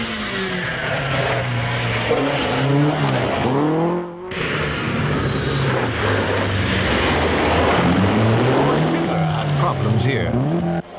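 Rally cars racing over a 15-mile forest stage at Cannon Wood near Clonmel, engines revving and changing gear in rising and falling sweeps, loud and close, with a commentator speaking over them.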